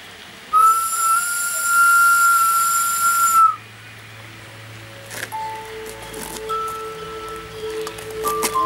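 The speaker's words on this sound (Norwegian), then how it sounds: "sa du ikke skulle blåse denne fløyta?" A shrill, steady whistle blast holds for about three seconds, then stops, leaving faint scattered tones and a quiet background.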